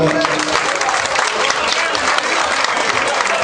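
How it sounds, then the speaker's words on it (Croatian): A crowd applauds the municipal head at the Dani Ilovčana 2009 village festival in Velika Ilova. Steady, loud clapping from many hands fills the whole stretch, with a murmur of crowd noise underneath. "jedan aplauz za našeg Darka"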